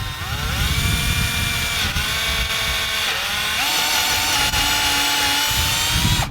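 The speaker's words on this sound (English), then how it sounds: "grab your 3/16 inch drill bit, okay? Attach it to your power drill, and what I'm going to do is I'm going to go ahead and drill on center." Power drill with a 3/16 inch bit boring into a stair railing post, a continuous high whining motor drone with a slight dip in pitch under load, running steadily and close for several seconds without talk.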